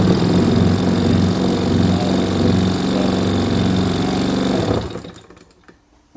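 A small YS 1.40FZ model engine is spun over by an electric starter in a steady loud buzzing whir, then winds down and stops after about five seconds, leaving near silence.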